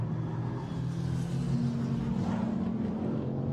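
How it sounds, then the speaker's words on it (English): A Mercedes AMG GT4 race car engine rumbles low and steady at the Paul Ricard circuit during a GT European Series race, a continuous mid-distance drone with no talk. "Mercedes AMG model rumbling away"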